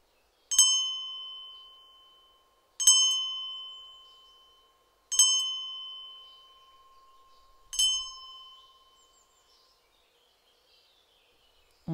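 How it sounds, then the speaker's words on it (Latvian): A small bell struck four times at even intervals of about two and a half seconds, each a clear bright ding that rings out and slowly fades in an otherwise quiet setting. "Jā, man ir zvans."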